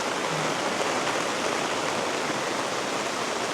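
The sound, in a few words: heavy rain pouring in a village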